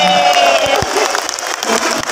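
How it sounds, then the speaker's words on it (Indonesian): Audience applause for the regent at a gathering in Magetan, a loud burst of clapping and crowd noise, with a voice heard briefly over it. "Tepuk tangan buat Pak Bupati benar"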